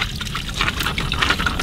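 Water pushed through an MSR Guardian filter pump, a steady splashing pour with gurgling trickles and small irregular bursts, close and continuous without talk.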